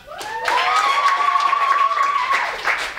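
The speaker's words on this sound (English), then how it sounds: "Applaud now if you'd like to see the origin story of Hot Flash." Audience at an improv comedy show applauding to pick a scene, a short burst of clapping with a sustained whoop riding over it before the applause thins out.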